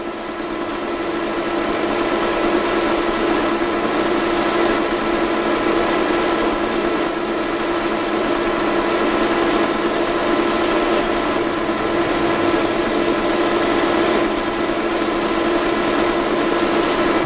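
A metal lathe takes a heavy 43 mm cut with cutting fluid supplied to the tool, giving a steady, loud machine hum and whine that holds unbroken throughout, with no voices.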